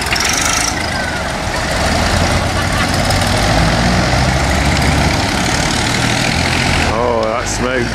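Tractor engines idle and rumble together at a tractor run, a loud, dense, low droning mass with people chatting nearby and a few higher whistles near the end.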